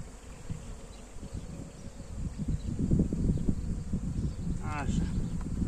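Honeybees humming steadily at a hive while being fed syrup, a close, continuous buzz with rustling and handling noise, and a brief high chirp near the end.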